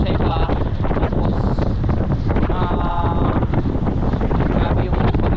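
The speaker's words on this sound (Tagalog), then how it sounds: "Napakalakas ang hangin." Strong typhoon wind (Typhoon Emong) buffets the microphone outdoors with loud, continuous roaring rumble and gusty flutter throughout, nearby faint tonal whines rising briefly above the roar.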